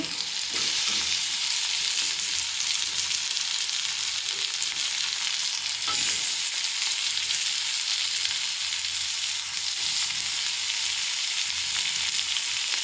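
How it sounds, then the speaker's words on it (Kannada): Tomatoes and vegetables frying in a pan for a village-style beetroot and chickpea palya, a loud, steady close sizzle with occasional stirring scrapes, no voices. "ಟೊಮೊಟೊ ಹಾಕ್ತಾಯಿದ್ದೀನಿ"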